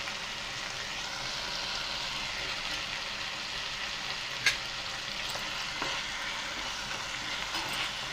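Chopped ripe tomato frying in a pan gives a soft, even sizzle throughout, with a few light clicks from stirring and no voices.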